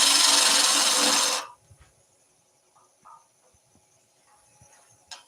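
A spindle gouge cuts wood on a lathe, a loud close rushing scrape for a little over a second before it stops, leaving near silence with a few faint knocks and clicks.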